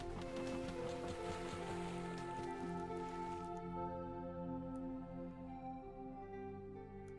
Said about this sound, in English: Look at the rain! The sea's overflowing!